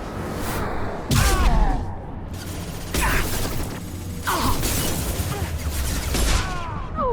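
Heavy gunfire and explosive bursts from the Mass Effect video game come in loud, repeated blasts with mechanical clatter, while voices shout over the combat.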